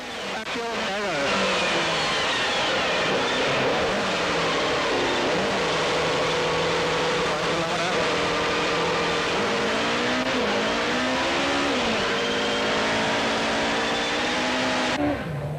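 A rally car charges through a special stage of the 2003 Tour Natal, its engine revving hard and steady throughout, shifting pitch through gear changes, loud and close for the whole stretch with an engine note carrying above other noise.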